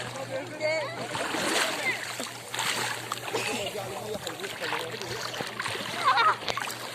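Sea water at Alexandria splashes and sloshes continuously around a swimmer, near and moderately loud, with voices talking over it throughout.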